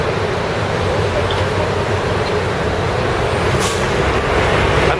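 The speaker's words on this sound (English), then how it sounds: "Look at all the buses." City traffic in Veracruz, Mexico, heavy with buses: a constant loud roar of engines and road noise, a brief hissing burst partway through like an air brake, no voices standing out.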